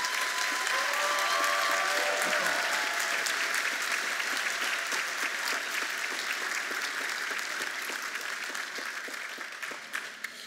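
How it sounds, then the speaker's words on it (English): Sustained, steady applause from a large audience at a spring university commencement ceremony for an architecture and design school, honoring recognized individuals; dense clapping holds throughout and tapers slightly toward the end. "Please give them a round of applause wherever they are."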